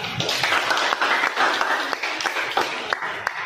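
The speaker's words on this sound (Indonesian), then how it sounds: "Mari kita beri aplaus buat kita." Students in a classroom applauding, a lively burst of close hand claps with distinct sharp individual slaps over a steady clapping wash, voices faintly mixed in.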